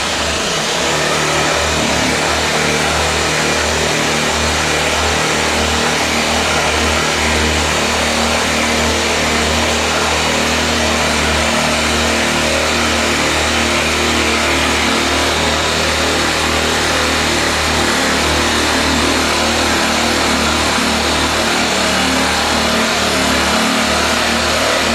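A rasp sander combo power tool running at maximum speed, a loud, steady motor whine with grinding on the workpiece, continuous for the whole stretch with no speech.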